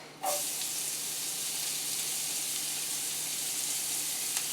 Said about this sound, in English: Now I'm going to add some shallots